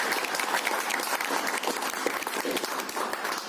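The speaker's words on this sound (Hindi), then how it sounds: "एक जोरदार ताली के साथ" An audience in a seated hall breaks into loud, sustained applause, a dense close patter of many hands clapping throughout with no talk over it.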